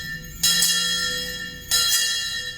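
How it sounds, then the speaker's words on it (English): Bells ring out loudly in two bursts in Georgetown during a historically themed celebration, their bright metallic tones overlapping and sustaining between strikes. "The bells ringing"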